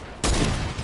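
A single loud gunshot in a video game bursts suddenly after a brief lull, its blast ringing out and tailing off close and harsh.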